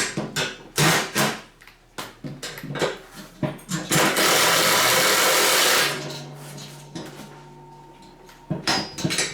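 Metallic clanks and ratcheting clatter as bolts are tightened with a 13 mm (1/2 inch) wrench while assembling a Johnny Plow Sr. snow plow, loud and close, with a sustained rushing noise in the middle.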